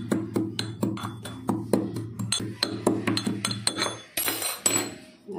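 Cumin seeds are pounded in a mortar with a pestle, a quick series of sharp, regular clinking knocks close to the microphone, growing slightly irregular toward the end.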